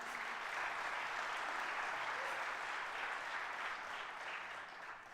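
A crowd at a city's state of the city address applauds, producing a broad, sustained wash of clapping that stays steady and fairly distant before easing slightly at the end.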